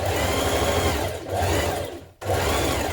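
Sewing machine back tacking the centre back seam of trousers: a steady, continuous mechanical whir with a brief pause and restart, close and alone.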